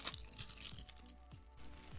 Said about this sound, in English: I do apologize for the excess noise of opening the packaging.